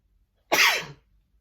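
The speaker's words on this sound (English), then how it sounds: "I gotta sneeze" A single sharp sneeze, loud and close, bursting out after a moment of quiet and trailing off quickly.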